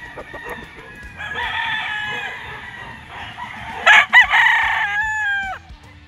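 A White Kelso gamefowl rooster crows loudly and close, a long drawn-out call with a sharp burst near the end, over faint background clucking from other fowl on a gamefarm.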